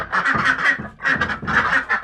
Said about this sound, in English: I gotta let the ducks out so they can roam the yard all day and get their food.